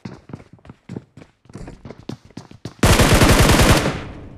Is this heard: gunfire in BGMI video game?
yes